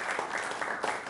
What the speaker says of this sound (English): Let's have a round of applause for Tammy Deem, Councilman.